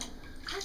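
Water sloshing in a bathtub during a children's bath, a brief close splash with a soft continuous wash of water.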